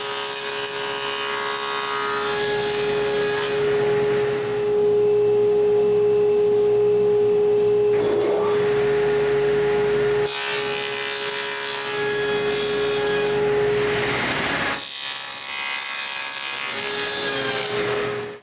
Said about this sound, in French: Je vais couper des entailles pour les barreaux.